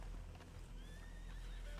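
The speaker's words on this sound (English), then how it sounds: "The horse galloping over." A horse in the video game RedM, with a neigh and faint hoofbeats over heavy low rumble. The sound is brief and fairly muffled.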